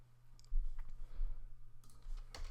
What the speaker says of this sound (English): So we'll type in script like this.